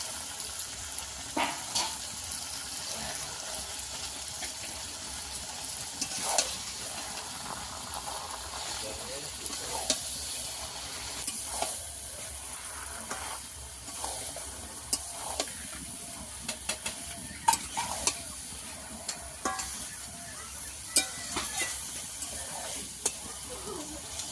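Marinated chicken with papaya paste frying in spiced oil for a country chicken curry, a continuous soft sizzle with scattered stirring clatters and scrapes throughout, fairly quiet, without any talking.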